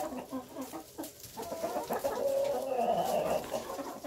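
Several caged mini meat-breed chickens recovering from mycoplasmosis cluck and murmur close by, steady and overlapping, with a higher drawn-out squawk rising partway through.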